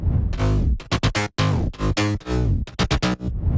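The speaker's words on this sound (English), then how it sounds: "So mid bass without effect sounds like this." A dry, buzzy future house synth mid bass without effects plays a short rhythmic phrase of choppy, harmonically rich notes with brief gaps, loud and up front.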